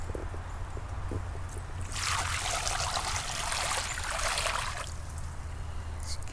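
Water pours steadily into a garden bird bath, a bright splashing stream that swells for a few seconds before tapering off, set against a low background hum.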